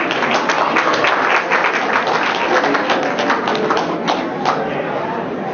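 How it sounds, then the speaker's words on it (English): Dense, loud clapping from the gathering at a Presbyterian church goodbye party, sustained and close, tapering slightly toward the end. "A round of applause."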